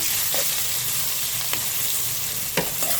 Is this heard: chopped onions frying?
yes